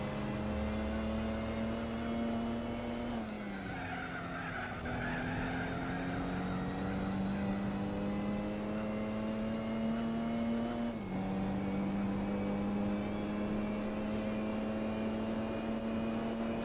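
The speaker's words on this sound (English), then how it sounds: "Loud freaking traffic." Racing engines in Gran Turismo 4 during an endurance event with a Mini Marcos GT drone on steadily, pitch shifting as the cars shift gears and traffic passes close by, a continuous loud mechanical hum.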